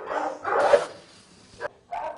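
Several dogs bark and yip in a shelter kennel room holding about 30 dogs, loud close bursts in two clusters with a brief whimpering gap, echoing off hard walls and floor.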